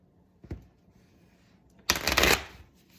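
A short riffle of tarot cards being shuffled, preceded by a soft tap, in an otherwise quiet room.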